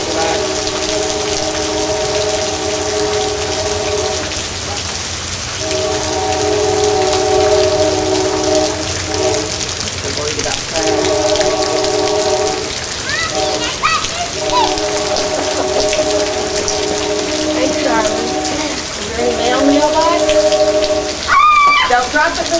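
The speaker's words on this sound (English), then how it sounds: "A little rain." Light rain falls outdoors in a steady broadband hiss, with patter and drips throughout, while people talk over it for most of the stretch.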